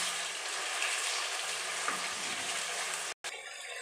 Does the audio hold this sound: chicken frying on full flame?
yes